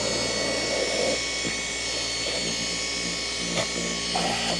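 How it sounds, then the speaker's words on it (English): A detailing polisher runs steadily on interior car carpet, giving off a continuous whirring hum at close range with faint knocks, working loosened sand out of the fibers. "I'll start up the polisher over to the side"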